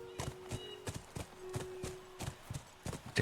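Horse hooves clip-clop in a video game, a run of crisp, evenly spaced thuds at a walking pace, moderately close and fairly quiet, with no voices.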